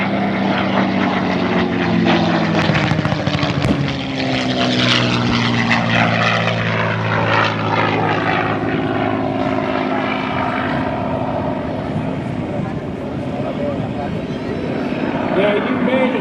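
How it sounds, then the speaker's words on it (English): A P-51 Mustang fighter flies aerobatics at an airshow, its piston engine and propeller roaring loudly with rising and falling pitch sweeps and a faint whistle from the gun ports, while an announcer talks over it. "Now you may hear a little bit of singing coming off the airplane."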